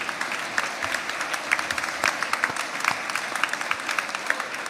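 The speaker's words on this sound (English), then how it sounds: "Join me in another round of applause to honor those who helped you attain your goal" Graduation crowd at a university commencement applauding in a sustained, dense round of clapping that fills a large hall, steady throughout with no speech over it.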